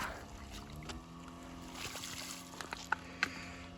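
A boat motor drones steadily across the water, with lapping water and a couple of sharp knocks near the end.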